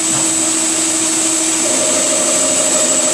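Mill-turn machine cutting an inner bearing adapter at 800 RPM, a steady high-pitched whirring hum with constant tonal whine and broadband hiss, alone and unchanging throughout.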